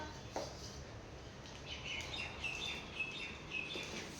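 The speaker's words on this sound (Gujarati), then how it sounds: "ત્યાં ચકલા બોલે છે." Sparrows chirp in short, high bursts at a distance, repeating several times over a steady background hiss.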